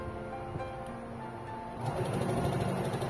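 A Janome 311 sewing machine sews a straight stitch, a steady mechanical whir that rises and grows louder and busier partway through as the pedal drives it faster.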